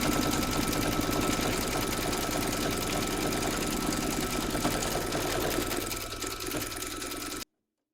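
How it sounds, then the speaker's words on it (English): An embroidery machine stitches a round on a hooped felt Easter treat bag, a loud, continuous, rhythmic buzz that runs steadily for several seconds, eases slightly, then cuts off abruptly. "Pop your hoop into your machine and stitch round number 6 to secure it"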